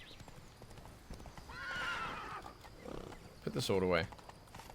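Roach, Geralt's horse in The Witcher 3: Blood and Wine, moves along with clip-clop hoofbeats and a brief snorting whinny near the end, while someone talks over it.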